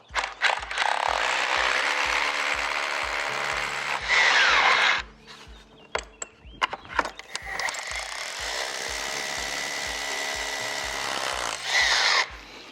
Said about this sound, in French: Donc là c'est parti, je vais pré-percer mes trous.